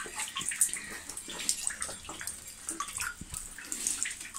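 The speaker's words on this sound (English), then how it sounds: "the water over the Shivalingams." Water poured over Shivalingams in a sacred cave well, a soft, irregular splashing and trickling close by, faint and wet, with no voices.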